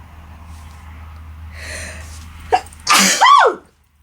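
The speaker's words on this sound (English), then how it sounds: "Just sneezed" One loud, close sneeze after a quiet sharp inhale, ending abruptly and followed by silence, with a faint low room hum underneath.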